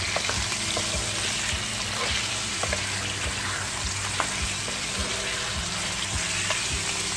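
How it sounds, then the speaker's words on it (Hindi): Chicken frying over medium heat in a kadai, a steady continuous sizzle with occasional stirring clicks and scrapes throughout, close and alone with no talk. "मीडियम आंच से हमें चिकन को फ्राई करना है।"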